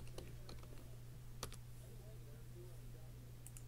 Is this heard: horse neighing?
no